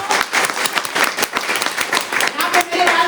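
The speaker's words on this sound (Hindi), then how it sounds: "ताली बजा दीजिए एक बार" An audience claps together in a dense, lively burst of applause with many sharp, close hand claps, steady for a few seconds without speech.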